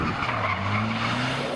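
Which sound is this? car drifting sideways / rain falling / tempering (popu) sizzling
car drifting sideways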